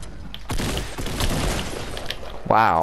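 Shotgun blasts in the video game Fortnite, a close, heavy burst of shots and rumbling impact noise lasting a couple of seconds, ending with a short tonal in-game sound.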